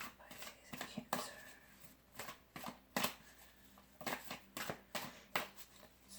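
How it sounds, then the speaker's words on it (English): Tarot cards being shuffled by hand late at night, a quiet close series of soft riffling snaps and flicks in irregular bursts. "I'm doing another shuffle here."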